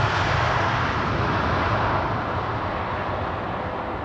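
An Etihad airliner landing on runway 18R Polderbaan at Amsterdam Schiphol in gusty weather, a loud, close, broadband engine roar that slowly fades, with no talking.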